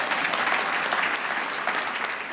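An audience at a Virginia Technical Academy commencement ceremony bursts into applause, a dense, even wash of many hands clapping close and loud for a couple of seconds.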